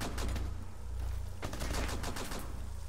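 Rapid gunfire from the video game Rainbow Six Siege during a ranked match, with bursts of shots crackling close and loud in quick succession across the whole moment.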